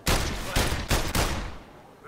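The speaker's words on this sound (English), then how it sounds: "I didn't mean to shoot." Gunfire in the VR video game London Heist: four loud, sharp shots or bursts in quick succession, each with a ringing tail that fades off at the end.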